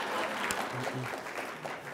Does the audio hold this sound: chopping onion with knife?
no